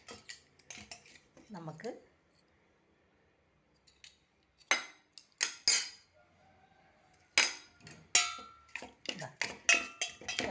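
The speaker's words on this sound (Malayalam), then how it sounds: "ആദ്യം ബത്തയ്ക്ക ചെറുതായിട്ട് അരിഞ്ഞെടുത്തിട്ട്" Knife chopping plantain into small pieces in a home kitchen, heard as a few bursts of sharp, close clicks and taps on a board separated by quiet gaps, with a brief spoken word early on.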